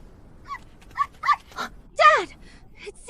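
A puppy gives several short yips and barks with a whimpering whine, close and fairly loud, with quiet gaps between the calls.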